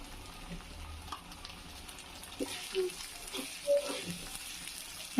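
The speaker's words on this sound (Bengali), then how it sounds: "আমি আদা রসুনটা একটু ভালোভাবে ভেজে নিই" Ginger and garlic paste fries in a pan with onions, a soft steady sizzle broken by a few stirring scrapes and utensil taps, fairly faint.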